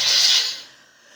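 A woman sneezes once, a sharp airy burst close to the ear that fades quickly, heard alone without talk.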